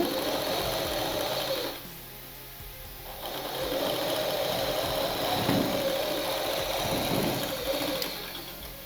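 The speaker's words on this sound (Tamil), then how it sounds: "ரெண்டு தையல் போட்டுக்கோங்க." A sewing machine runs in two steady bursts as it stitches a seam on a skirt and blouse garment, with a brief quieter pause near two seconds, close and continuous with no talking.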